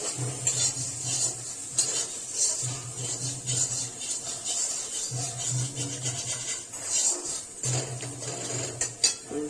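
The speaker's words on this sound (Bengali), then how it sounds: "এবার এগুলোকে ভালো করে একটু কষিয়ে নেব" Taro stem curry being sautéed in a pan, with steady metal scraping and clinking of a spatula against the pan, a faint sizzle and a low hum underneath, close and continuous with no talk.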